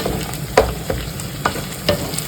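Palabok topping seasoned with annatto powder, salt and pepper fries in a pan, giving a steady close sizzle broken by a few sharp scrapes of a utensil stirring it, with no voices.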